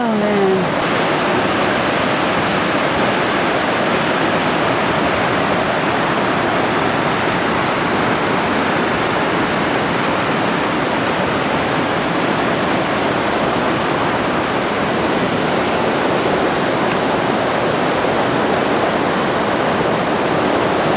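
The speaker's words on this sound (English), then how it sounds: "How are we ever going to cross this river?" San Joaquin River, swollen where Evolution Creek merges in, roars loudly and continuously at a backpacking river crossing, a dense unbroken rush of whitewater very near.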